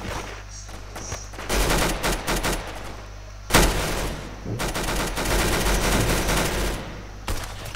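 Rapid machine gun fire in the Roblox shooter Arsenal, sustained bursts with brief pauses and a sharp louder burst midway, dense and close, over a steady low game hum.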